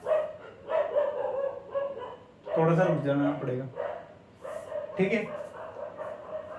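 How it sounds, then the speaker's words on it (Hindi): Neighbourhood dogs bark and yip in the background of a Hindi physics lesson, a cluster of short barks around the middle and another near the end, fairly distant and mixed in with the teacher's ongoing talk. "हमारे मोहल्ले के कुत्ते भौंक रहे हैं"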